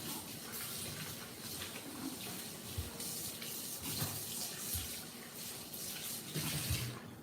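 Water from a kitchen tap runs into a mixing bowl as it is rinsed, a continuous faint splashing and gurgling with small clunks of the bowl being moved, heard without speech.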